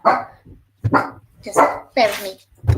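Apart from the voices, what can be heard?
dog barking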